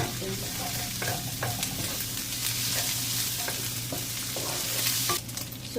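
Ground meat being stirred and fried in a pan: continuous close sizzling with regular spatula scrapes and clinks against the pan, no voices.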